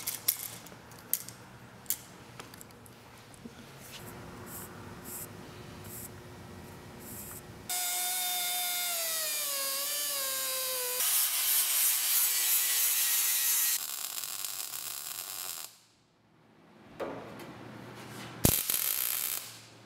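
Suspension tubing for a 4-link rear setup being cut to length with a power tool: a close, steady whining cut for several seconds after scraping handling noises, then a sharp clank.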